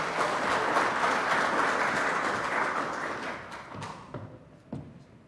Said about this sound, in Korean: 이재정 의원님 인사 말씀 큰 박수로 모시겠습니다